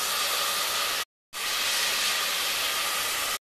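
Mutton frying in a pan with ginger paste and chili: a loud, steady, hissing sizzle in two stretches separated by a short silent break.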